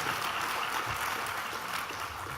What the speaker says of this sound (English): Let's give our panelists another round of applause, please.